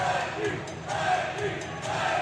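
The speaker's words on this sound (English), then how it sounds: "Get some Reggie chants from the crowd." Fans at a Prowlers versus Scarecrows hockey game, led by a supporters' section, chant in a rhythmic, repeating pattern, a moderately distant massed chorus of voices.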